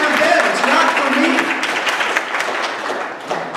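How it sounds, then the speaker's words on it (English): Audience at an ADP and GED graduation ceremony applauding, a dense, fairly loud wash of many hands clapping continuously and gradually easing off, with crowd murmur beneath. "So if you feel like clapping, just go right ahead"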